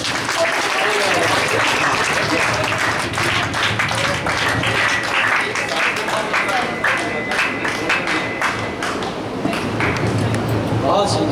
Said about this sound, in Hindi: एक बार मिलन जी के लिए एक बार ताली बजा।